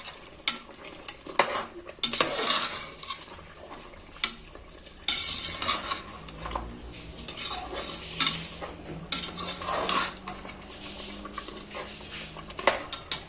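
A spoon scrapes and stirs through a thick, sizzling beef masala for biryani in a pot, with intermittent clanks against the metal sides.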